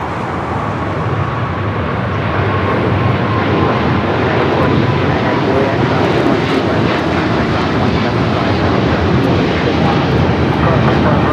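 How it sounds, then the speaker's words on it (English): An Eva Air Boeing 777-300ER takes off from runway 25 right at LAX bound for Taipei, a loud, sustained jet roar building slightly and holding strong throughout, with voices talking over it. "Air Flight 5 taking off to Taipei on the 777-300ER."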